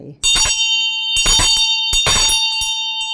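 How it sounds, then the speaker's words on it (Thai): A cast metal bell is struck about four times. Each bright clang rings on with a long, steady shimmer between strikes. "เสียงใสกังวานเอกลักษณ์ของงาน เอกลักษณ์ของตัวระฆังเลยนะคะ"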